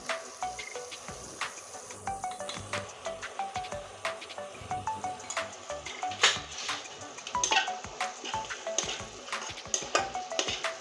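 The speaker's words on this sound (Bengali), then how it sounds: "আমি সুন্দর করে এখন কষিয়ে নেব দেখুন" Spices with onion, garlic, dried red chilli and turmeric being sautéed in a pan, with steady metallic scraping and clinking of a spoon against the pan over a faint sizzle.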